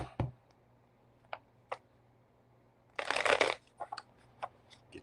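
Tarot cards are shuffled close to the mic in a quiet room: scattered soft taps and flicks, then a dense riffling burst, followed by a few more light card clicks.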